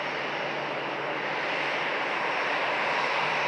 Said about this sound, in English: Here's the Dash 8 on the move.